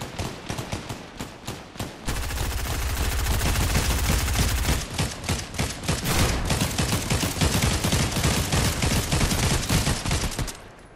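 Dense, loud automatic gunfire as AI soldiers fight each other in a video game, a rapid crackle of shots running almost continuously with a heavy low rumble in the middle stretch.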